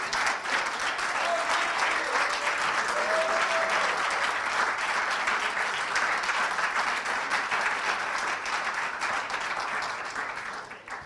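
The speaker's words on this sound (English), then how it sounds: "make one final thank you applause to all the presenters" Audience applause for presenters at a members' weekend event in Vilnius: loud, sustained clapping from a large crowd that continues for about ten seconds before tapering at the end.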